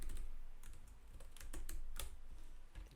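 Rapid clicking of computer keys as code is typed, irregular bursts of keystrokes at close range, fairly quiet with a low background hum and no voices.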